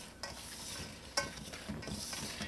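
Dry ingredients for a Trinidadian fish pie dough are stirred and mixed in a bowl. The scraping, rustling sounds are faint and close, and one sharper knock of a utensil stands out partway through.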